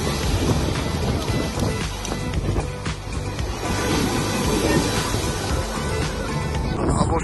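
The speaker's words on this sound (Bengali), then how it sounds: "এখানে প্রচুর পরিমাণের কিন্তু বাতাস" Strong wind sweeps across Patenga sea beach in a continuous, loud roar that buffets the microphone, mixed with a low rumble of surf and no clear pauses.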